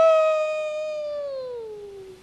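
A voice imitates a howl: one long, sustained, loud wail that holds steady, then slowly drops in pitch as it fades away, heard alone at close range.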